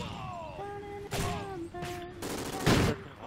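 Gunfire in a first-person shooter game, several sharp bursts of shots cutting through overlapping tonal game sounds, with the loudest volley near the end.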